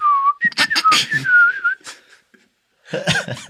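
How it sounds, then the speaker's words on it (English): A person whistles a wavering, sliding tune up close, with a short pause before a brief final burst of whistling. "he gave him a nice little whistle"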